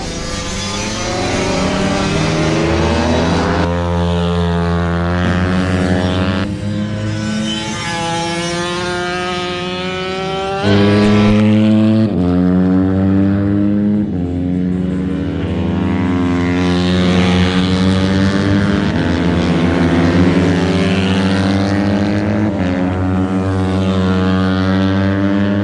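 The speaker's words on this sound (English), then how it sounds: "Motorcycles out on the course." Minimoto motorcycles race around a track at Grand Junction, their small engines buzzing loudly and continuously and rising and falling in pitch as the bikes rev through the course.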